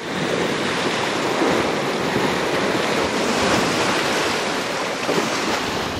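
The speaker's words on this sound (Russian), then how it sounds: "скалы, морская волна бьет." Sea waves break continuously against coastal rocks at Batiliman at sunset, a loud, steady wash of surf mixed with wind rumble and no voices.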